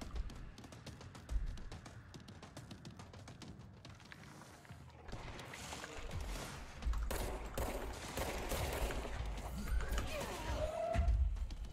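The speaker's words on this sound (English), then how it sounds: "There's guys shooting at me too" Enemy gunfire in the video game Control comes at the player as scattered bursts and rattling shots over a busy, rumbling game soundscape, moderately loud and growing denser toward the end.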